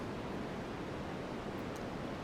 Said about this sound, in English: I just brought in a few seconds of stock white noise